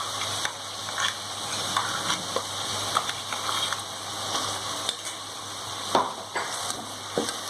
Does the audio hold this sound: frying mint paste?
yes